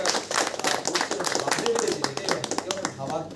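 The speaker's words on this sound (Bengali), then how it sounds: "আরিয়াদহ নাট্যপীঠের জন্য একটু হাততালি হয়ে যায়" An audience at a theatre talk on Premchand claps for a local drama group, a brisk burst of hand claps close by that carries through the whole moment, with a voice also speaking.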